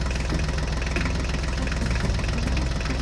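A Ford tractor and a mini tractor idle together in a steady, loud, continuous engine rumble with a knocking low-end pulse, no voices over it.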